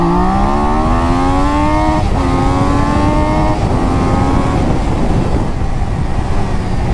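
A Triumph Daytona 660 sports motorcycle accelerates hard on the road. The engine note climbs steadily in pitch, drops briefly at a gear change and climbs again, loud and close throughout, with no talking.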